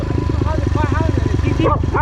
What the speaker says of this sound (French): C'est un gros toutou.